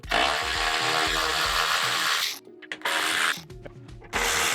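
A ratchet buzzes in long, steady bursts while backing out running board bolts on a Chevrolet Silverado, close and loud, with brief pauses and stuttering clicks between runs of fast cranking.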